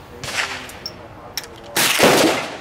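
A Mosin-Nagant M91/30 rifle fires outdoors at Quail Creek, giving two broad, booming reports: a shorter, softer one, then a louder blast with a long, rolling echoing tail.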